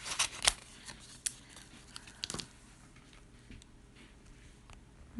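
Scissors snip out a crescent moon shape from paper for a handmade card, giving a few close, crisp cuts clustered early on, then quieter rustling and small ticks with no talking.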